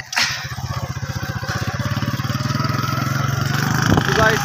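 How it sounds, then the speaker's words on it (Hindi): A tractor engine idles steadily right after being started, a loud, close, even chugging pulse that keeps running throughout. "फाइनली गाइस हमने ना ट्रैक्टर जो है ना वो स्टार्ट कर लिया"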